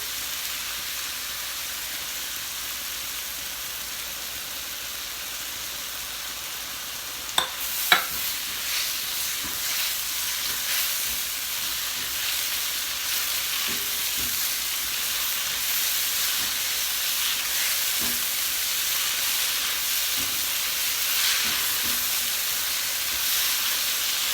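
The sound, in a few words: homemade sauce added to shrimp and broccoli sizzling in pan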